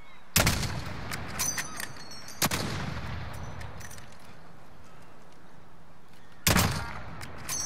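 Sharp, isolated gunshots from a Call of Duty: Modern Warfare gunfight ring out loud and close, a few single cracks and short bursts spaced by seconds of quieter ambience, with no talking.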